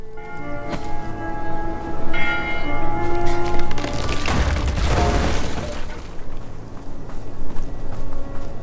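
A large bell in a bell tower in the video game Bramble: The Mountain King rings with resonant, lingering tones, struck several times amid mechanical clanks and a crashing rush midway, loud and close.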